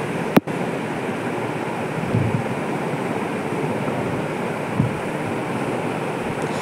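Hot water poured into a pan of gourd curry (lau ghonto) with lentils, a steady broad rushing pour running throughout, with a sharp click near the start and no talk.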